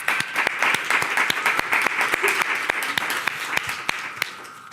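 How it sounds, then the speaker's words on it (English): A crowd applauds steadily, dense clapping with a few sharper individual claps standing out, holding at an even level throughout. "Let's give him a round of applause, everybody."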